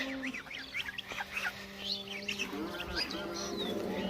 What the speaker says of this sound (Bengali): কতগুলো হাঁস